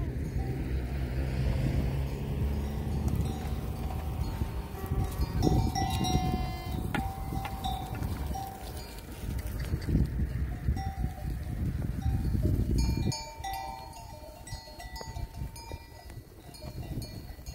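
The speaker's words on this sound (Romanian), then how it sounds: "Turmă frumoasă de oi." A large flock of about a thousand sheep at Mâtnicu Mare in Caraș, Romania, bleating over and over while their bells clang and tinkle. The sound is dense and continuous, near and loud, with no talk.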